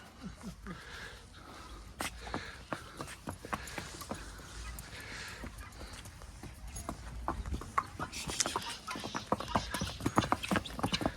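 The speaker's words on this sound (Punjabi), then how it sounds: "ਘੋੜੀ ਦੀ ਕਰਤੀ ਸਵਾਰੀ" Steady clip-clop of a mare's hooves over ground as she is ridden, a brisk rhythmic series of knocks, with faint voices and outdoor noise in the background.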